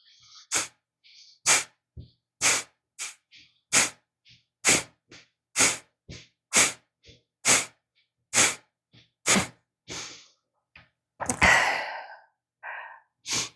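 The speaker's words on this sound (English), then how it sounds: "I'm inhaling through the nose and my exhalation through the nostrils is" A series of sharp, forceful fire-breath exhalations pushed out through the nostrils, evenly spaced and close, a dozen or so puffs followed by a longer rough exhale.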